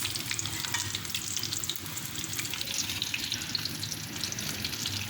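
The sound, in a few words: chicken frying in oil, KFC style broast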